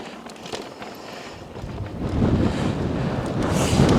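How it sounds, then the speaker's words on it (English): Wind rushes past a mountain biker on a trail, a rough low blustering against the microphone that builds and grows louder midway through. "Turn the corner back into the wind."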